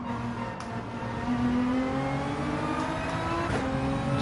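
Race cars in Gran Turismo 7 drone steadily through a league race, engines holding a sustained whine with shifting pitch as several cars run close together, with no talk.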